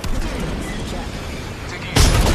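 Video game gunfire rattles under ongoing battle noise, ending in a sharp loud burst of shots, while a voice calls out in the background.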